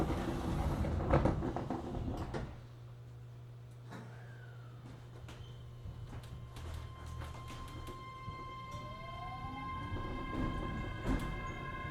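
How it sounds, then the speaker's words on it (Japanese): Doors of a JR Kyushu 817 series local train slide shut at a station platform. A short thud is followed by a steady low hum and faint chimes, then ambient station noise. "ドアが閉まります。"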